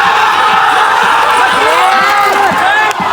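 A loud festival street procession for Mathur in Usatne, with a dense crowd clamouring and cheering nonstop, shouts and whoops rising over the din, and voices calling out throughout.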